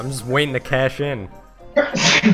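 A sharp sneeze bursts out near the end of a short stretch of casual talk between people playing Mario Party 5, loud and close, following the speech.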